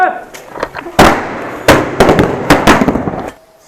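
Firecrackers burst during Diwali celebrations, with several sharp, loud bangs in irregular succession, crackling tails after each one and faint voices in the background.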